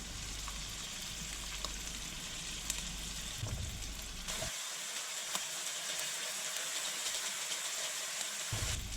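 Meat frying in a pan, a dense continuous sizzle that suddenly shifts to a thinner, airier hiss partway through, with scattered small pops and occasional clinks.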